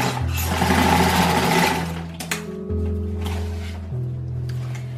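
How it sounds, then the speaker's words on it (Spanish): Electric sewing machine stitching around the edge of a round fabric handbag, running in steady bursts of close, loud motor hum with rhythmic needle chatter and brief pauses in speed. "comienzas a coser por todo el contorno"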